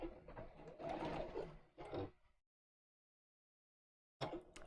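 A sewing machine stitches fabric in quick, faint bursts along a folded line, pausing into near silence before starting up again briefly.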